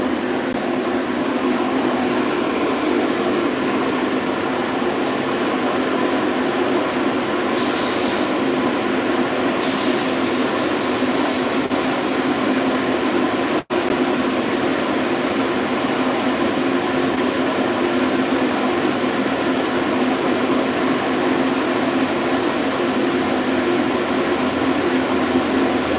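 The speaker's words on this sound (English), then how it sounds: "kick on the evacuation fan, get the vacuum started going through here" An evacuation fan and a shop vacuum run together in a garage, making a loud, steady, unbroken whooshing roar with no voices over it.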